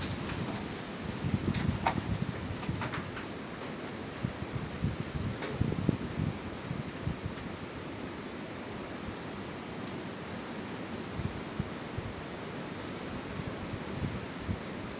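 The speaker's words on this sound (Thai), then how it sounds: "ขออภัยเนาะเพราะว่ามันลมแรงมากเลย" Strong stormy wind roars steadily outdoors in a broad rushing wash, with gusty bursts and buffeting against the microphone, loudest near the start.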